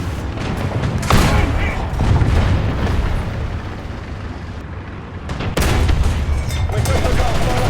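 An Italian tank in War Thunder fires heavy booming shots amid dense rumbling battle noise, loud and close with sharp blasts, while a player talks excitedly over the combat.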